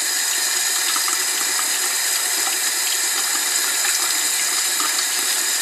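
Tap water runs steadily over paint brushes being rinsed on their sides at a sink, a constant close hiss and splash with no pauses and no voices.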